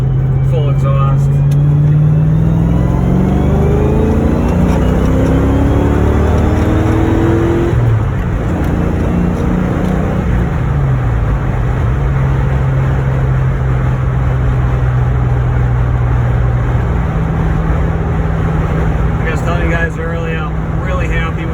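Fox body Mustang with an X-pipe full exhaust pulls hard onto a highway, the engine note climbing through gear changes then settling to a steady drone, loud and close with wind noise and some talking over it.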